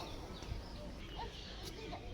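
Chickens cluck faintly around a village yard with ducks, goats and cattle nearby, a few soft distant calls over a steady low outdoor hum with no talking.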